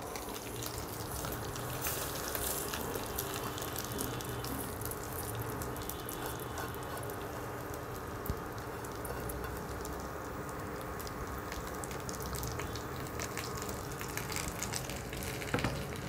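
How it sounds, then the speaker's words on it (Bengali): Gobindobhog rice frying in a pan with nigella seeds and green chilli, a steady, close, broadband sizzle and crackle running continuously with no talk. "এবার আমি চালটা একটু ভেজে নেব।"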